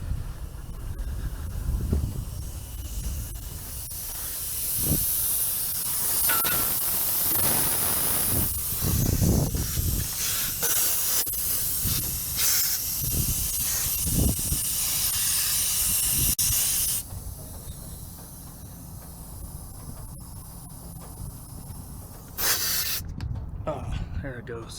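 Steady broadband hiss of compressed air leaking from the rear of a truck, continuous and fairly loud for most of the stretch, with rumbling wind and movement noise, then easing off near the end.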